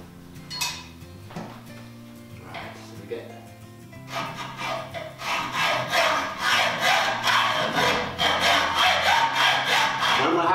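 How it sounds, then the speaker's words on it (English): A few scattered scrapes and taps, then a hacksaw rasps in quick, regular back-and-forth strokes through a 4 mm tray, loud and close. "allowing the hacksaw to do the work"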